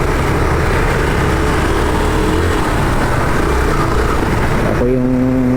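City road traffic in Pasay during a GoPro-filmed ride, a loud steady roar of engines and wind noise with a vehicle revving near the end.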